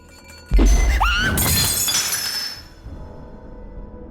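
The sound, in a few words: wine glass shattering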